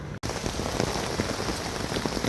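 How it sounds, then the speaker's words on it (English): Heavy rain on the West Highland Way pours down steadily, a dense continuous hiss of drops striking surfaces, close and loud throughout after a brief cut at the start. "here's the rain. Pissing it down. Absolutely sheeting it down."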